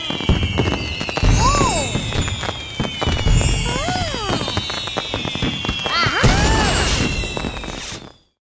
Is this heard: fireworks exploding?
yes